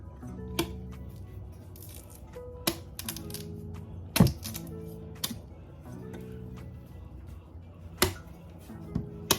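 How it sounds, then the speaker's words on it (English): A knife peels raw cassava close by in a kitchen with short, irregular scraping and cracking strokes. A few sharper snaps stand out over a low background hum. "So right now, I'm just gonna peel up the cassava."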